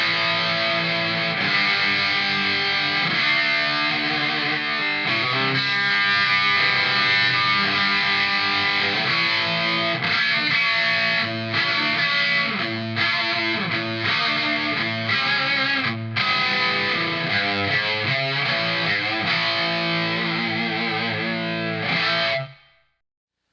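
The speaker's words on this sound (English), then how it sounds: "what you just heard is the amp with all the controls set to about 12 o'clock" Electric guitar played through a Peavey Windsor tube amp with every control set to the middle produces continuous, loud, overdriven chords and riffs for over twenty seconds, then cuts off abruptly.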